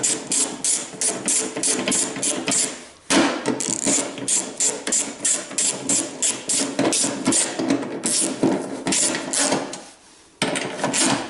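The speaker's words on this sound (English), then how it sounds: "Nip them up, and then when I'm happy, tighten them." Bolts on a car tailgate are wound in and tightened with a ratchet, giving a loud, close, fast clicking in long bursts with two short pauses between them.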